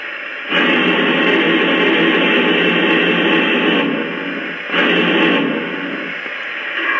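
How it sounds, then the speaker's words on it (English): Two long bursts of loud, broad hissing cylinder steam sound effect from a LionMaster LC2 Big Boy model locomotive, the first lasting about three seconds, the second shorter, with a steady lower hiss between them. "And here's the cylinder steam sound."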